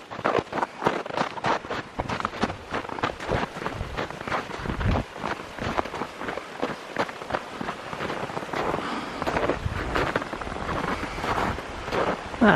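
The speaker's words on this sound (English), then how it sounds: "the wind's not bad, so this is okay" Strong wind gusts around an off-grid winter tent camp in light snow and bitter cold, battering the microphone in rough, uneven bursts that roar and ease in close succession.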